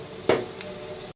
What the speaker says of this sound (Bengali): এখন আমি পেঁয়াজ কাঁচা জল আর তেল দিয়ে এটা ভাজতেছি